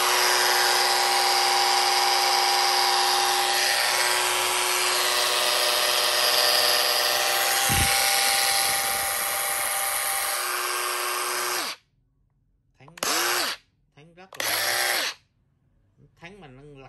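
Bosch GWX18V-50PC X-Lock cordless brushless 18V angle grinder whining at full speed, then braking to a fast stop, followed by two short bursts of spin-up and sudden braking, close and loud.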